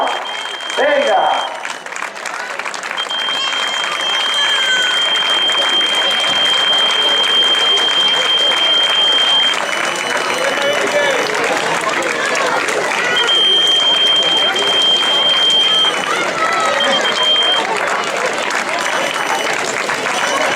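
Sustained crowd clapping at the 2016 Carreira popular running race in Meaño, a continuous loud roar of hands lasting around twenty seconds, with an amplified announcer speaking over it and a thin high tone cutting in now and then.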